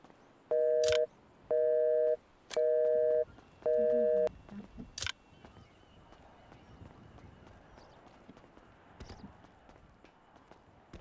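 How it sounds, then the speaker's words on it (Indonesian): A telephone call tone sounds in four evenly spaced electronic beeps near the start, clear and up close, followed by faint room noise and a few sharp knocks. "Kita telepon Kaina dulu deh"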